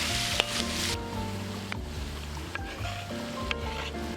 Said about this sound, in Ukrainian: піджарюється на нашому смальчику і додаємо морку кубиком. І вже на повільному вогні обсмажуємо.